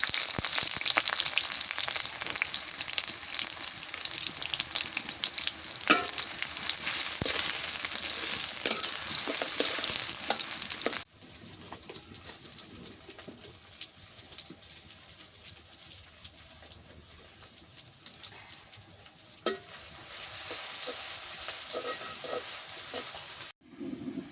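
Onions and whole spices frying in hot oil, a dense, loud, continuous sizzle close by that drops to a softer sizzle partway through, with occasional stirring clinks and no talking.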